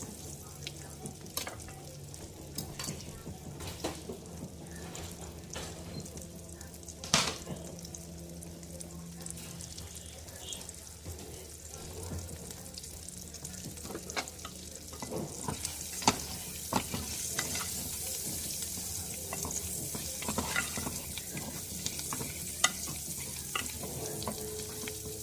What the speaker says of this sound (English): I'm gonna add my sausages now. I already sliced my sausages. Now I'm gonna brown them.